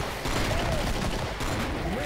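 Gunfire in the video game Killing Floor comes as a dense, continuous burst of shots over a loud, busy game soundscape, with a voice talking over it.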